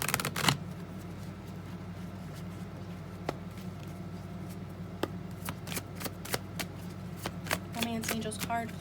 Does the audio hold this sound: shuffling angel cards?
yes